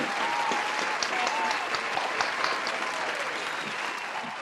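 Applause greets Yolonda Ross as she is welcomed onto an online talk show, a dense, even wash of clapping that holds steady throughout with a few sharper claps near the front.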